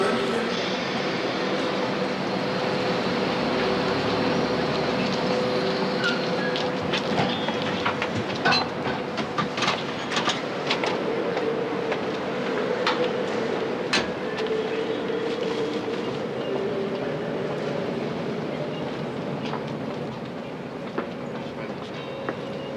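An express train from Hamburg rolls into a station on track 22 with a steady rumble and clickety-clack of wheels over rail joints, brakes and metal clanks sounding as it slows, with voices in the background.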